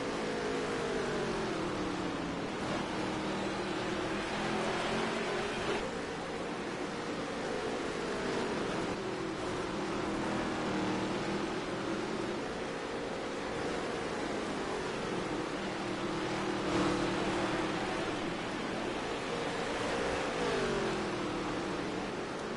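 Dirt track touring race cars roar around an oval at a 2019 NOSSCAR Dirt Touring Series race, a steady dense engine drone with rising and falling pitch sweeps as cars pass, loud and continuous throughout with no talk.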